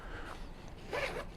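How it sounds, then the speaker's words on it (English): A jacket zipper gets pulled, a quick close rasp of zip teeth in a quiet room, with one stronger stroke toward the end. "again, nice quality zips."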